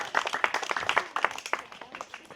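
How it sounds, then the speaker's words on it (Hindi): Modest group of listeners at a Rajyoga meditation gathering claps for a child, a loose, uneven patter of individual hand claps, fairly close, fading slightly toward the end. "इस बच्चे के लिए सभी एक बार ताली बजा देंगे"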